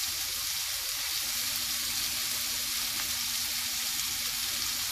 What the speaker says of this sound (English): Now I'm gonna put in some soya sauce.